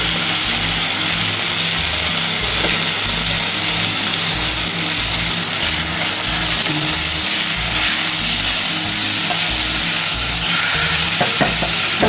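Drained cooked rice stir-fried in hot oil with asparagus and small shrimp for a risotto, a loud continuous sizzle with rhythmic scraping and stirring strokes, close up and without talk.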